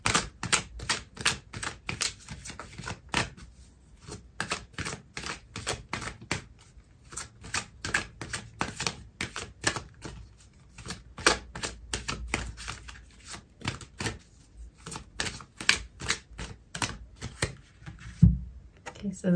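Tarot cards shuffled and drawn for a reading, heard as a long, dense run of quick, sharp card flicks and riffles, close and steady throughout with brief pauses.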